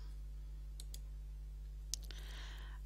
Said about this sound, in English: Click on the Update button